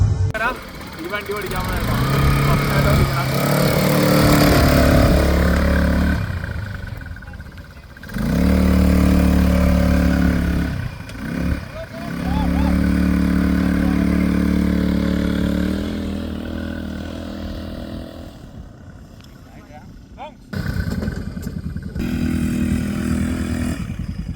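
A motorcycle engine runs and revs steadily, loud and close, with brief dips between stretches, while a person talks over it.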